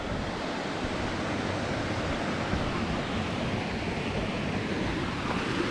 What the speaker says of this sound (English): Not a bad little spot, little waterfall going into the pool.